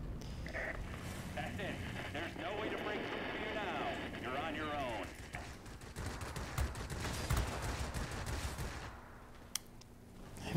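Aircraft machine guns firing in the World of Warplanes flight game, MB 5 plane, in rapid bursts under steady engine drone, with a player talking over the action.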